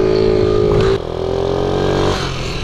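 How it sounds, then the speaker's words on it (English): A 50cc moped engine with a stunt handlebar setup, revving at full throttle as a loud, close, steady high-pitched drone that dips briefly and then holds. "when you open up full throttle on this thing"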